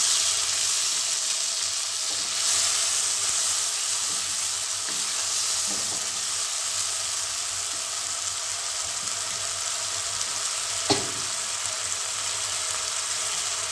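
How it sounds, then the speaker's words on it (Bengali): Ground spice paste fries in oil for a radish ghonto with potato and peas: a continuous close sizzle with faint stirring, one sharp utensil knock near the end, no speech. "একসঙ্গে নিয়ে দিচ্ছি যাতে মশলাটা তেল ছিট না করতে"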